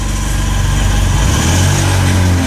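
A 57-horsepower Chinese tractor engine runs loud and close, a dense low diesel chug with a steady throbbing rhythm that deepens slightly midway, with no voices over it.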